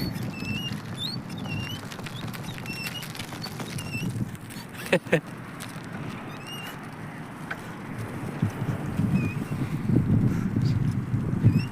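Steady headwind while cycling rushes and buffets the microphone in a low roar, with occasional bumps and faint bird chirps in the background.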